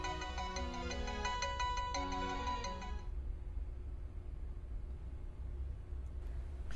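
A mobile phone ringtone plays a bright repeating melody for about three seconds and then cuts off, leaving a quiet hiss as the call goes unanswered; no one speaks.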